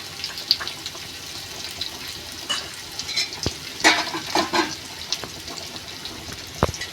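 Green masala tossed into a frying pan and stirred, a steady low sizzle broken by sharp scraping clicks of the spoon against the pan, with louder stirring strokes near the middle and end; no one speaks.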